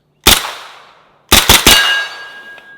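An MP5 roller-delayed blowback submachine gun fires outdoors: one sharp ringing shot, a short pause, then a quick burst of three shots, each loud and close with a metallic ring trailing off.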